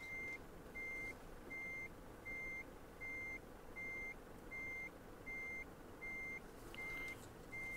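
A Volvo FH truck in Euro Truck Simulator 2 reverses, its backup alarm sounding a steady, evenly spaced train of beeps over a low, quiet engine rumble.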